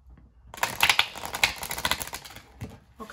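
Tarot cards being shuffled by hand: a quiet start gives way to a burst of crisp, rapid riffling and flicking, then softer scattered taps, all close and fairly faint.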